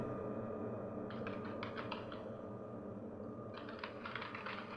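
Quick bursts of typing on a computer keyboard while writing text in Microsoft Word. Two separate runs of light, close clicking rise over a faint steady hum.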